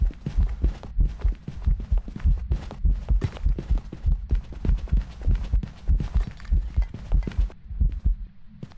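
A heartbeat during a ghost hunt in a video game throbs as a rapid series of deep, muffled thumps in a steady rhythm, loud and close throughout with no talk over it.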